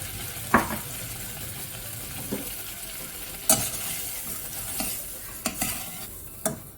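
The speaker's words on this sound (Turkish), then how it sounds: "Bir su bardağı irmiğimizi üzerine döküyoruz." Semolina stirred and toasted in melted butter in a pan, a soft continuous scraping and light sizzle with occasional sharper clicks of the spoon against the pan, close up and without talk.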